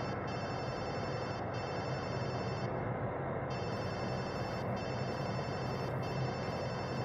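A telephone rings inside the video game Watch Dogs 2, repeating bright electronic ring bursts separated by short pauses, heard alone over a steady background hum.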